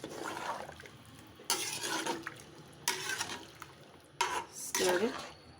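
A spoon stirs rice in a pot of water in short, scraping bursts, with splashy sloshing between pauses, close and fairly loud.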